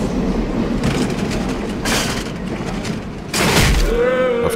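A metro train in a video game rumbles past with a steady roar, swelling in bursts and growing louder near the end as a faint whine rises over it.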